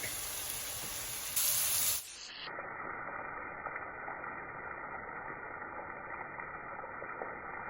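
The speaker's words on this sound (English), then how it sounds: "now I'm going to have it on medium high so I can continue to get this sear on the steak" Steak tips sear in a pan over medium-high heat, a steady even sizzling hiss that runs throughout after a short louder burst near the start, continuous and close.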